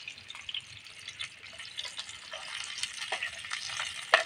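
Pork meatballs fry in hot oil, a steady close sizzle broken by scattered pops and crackles of splattering grease that grow busier toward the end.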